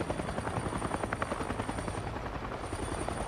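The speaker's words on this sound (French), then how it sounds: "ils sortaient d'un hélicoptère." Helicopter in the game Avatar: Frontiers of Pandora, a steady rhythmic rotor chop with a constant high whine, close and continuous, with no talking.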